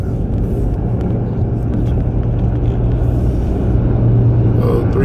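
Heavy diesel rumble of an old Caterpillar 330B excavator on its last ride, a steady low drone throughout that swells slightly near the end.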